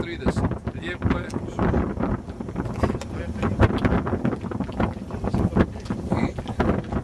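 Strong wind at about minus ten degrees on New Year's Day buffets the microphone in loud, gusty, rumbling surges throughout.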